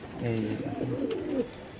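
Soft, low coos of white Lakkha pigeons repeat in short phrases through the clip, mixed with voices talking close by at a pigeon sale.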